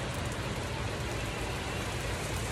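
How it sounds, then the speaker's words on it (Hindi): Heavy monsoon rain pours down in a dense, loud, unbroken hiss throughout, with drops pattering on surfaces and no voices. "लेकिन अभी इतनी तेज बारिश हो रही है मुझे लग रहा है छाता भी कुछ नहीं कर पाएगा।"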